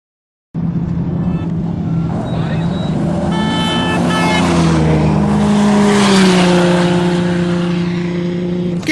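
A car horn toots amid loud engine roar and passing vehicles at an off-road racing event in Primm, with tones rising and sustaining over rumbling motor noise.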